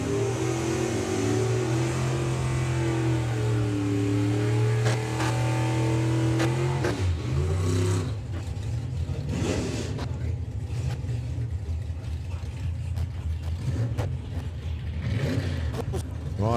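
A Chevy truck and a Ford pickup pull hard down the drag strip at Santa Pod Raceway, engines droning with rising pitch before fading into a rumbling, distant roar, while a commentator talks over the sound.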